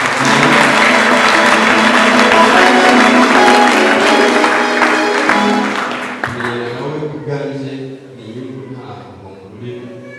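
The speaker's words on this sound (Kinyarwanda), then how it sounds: "mufashe munkize amashyi tumukomere Imana" Loud, dense applause from a church congregation fills the room for several seconds, then thins and drops away as music or voices carry on underneath.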